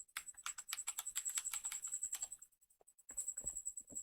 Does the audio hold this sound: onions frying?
no